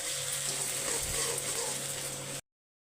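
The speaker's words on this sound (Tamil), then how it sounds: "ஒரு மூணு பச்சை மிளகாய் ஓகேவா கொஞ்சம் ஃப்ரை ஆகட்டும்" Three green chillies fry in a pan with curry leaves, giving a soft, steady sizzle and crackle close by that cuts off abruptly near the end.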